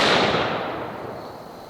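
Zero-gauge cable blows apart under high current from a bank of car batteries, a single sharp gunshot-like bang followed by a fading hiss and crackle of sparks, loud and close.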